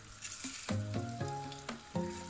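Cumin seeds sizzling in melted butter in a pan for dal makhani, a steady hiss with a few sharp crackling bursts as the seeds hit the fat, close and alone.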